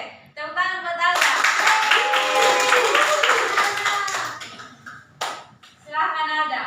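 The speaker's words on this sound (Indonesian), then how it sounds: "Tepuk tangan buat Alda" Classroom of students clapping for a classmate, a dense burst of hand claps lasting several seconds, close and fairly loud, with a teacher's voice and children talking before and after.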